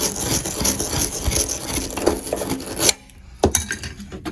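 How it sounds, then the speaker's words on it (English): A 3/4 inch wire brush of the kind used on copper scrubs the threads of an electric water heater element port, a close, continuous rough rasping that stops abruptly, followed by a couple of sharp knocks. "I'm going to take a 3/4 inch regular brush that you'd clean copper with and clean those threads"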